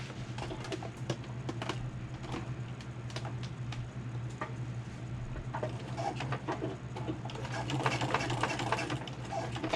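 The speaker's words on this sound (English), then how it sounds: "We're going to stitch over that line we just drew, attaching the bottom strap to the main panel at 3/4 of an inch up from the bottom." A sewing machine stitches a handbag's bottom strap onto the main panel, a steady close mechanical whir with rapid ticking stitches and a low hum that grows slightly louder toward the end.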